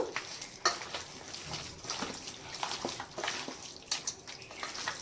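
Raw mutton is pressed and kneaded by hand with ginger, garlic and chili paste, making moist, squelching smacks in quick irregular bursts at close range, with no talk.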